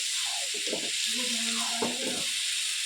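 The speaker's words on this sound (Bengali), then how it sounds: "দেখো আমি চিকেন দিয়ে ভালো করে কষাতে থাকি," Chicken fries and is stirred in a pan with a steady, bright sizzling hiss throughout, as a voice talks over it in the foreground.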